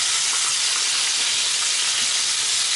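Fish pieces for an escovitch fish sandwich frying in hot oil, a loud, dense, unbroken sizzle close up, with no voices.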